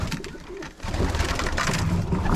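Pigeons coo inside a snowed-in loft during a winter storm, soft repeated cooing over a steady background hum.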